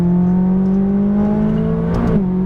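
McLaren 570S engine accelerating on a race track, a loud steady rising drone close up, with a brief change in pitch like a gear shift near the end.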